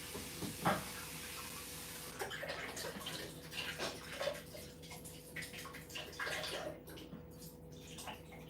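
Water runs steadily into a sink or basin being filled as an ice bath for lettuce in a home kitchen, a soft continuous hiss with faint clinks and knocks, fairly quiet.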